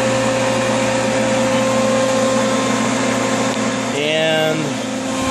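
A table saw on a variable frequency drive hums steadily while cutting a dado, with a loud constant motor whine and a brief shift in pitch near the end.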